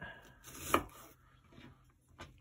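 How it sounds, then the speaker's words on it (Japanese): A knife chops a whole onion on a cutting board: one sharp, close tap stands out, with a few softer strokes before and after, and no talking. "全部は切らずにトントンやっていきます。"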